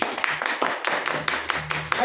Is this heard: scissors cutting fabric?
no